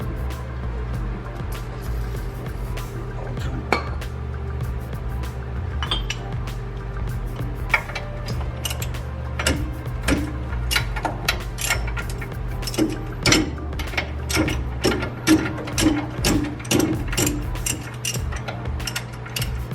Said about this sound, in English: To loosen the nuts.